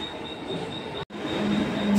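A train bound for CST passes near Byculla station in Mumbai, giving a steady rolling rumble with a thin high whine over it. A brief dropout breaks the sound midway, and a metallic squeal rises near the end.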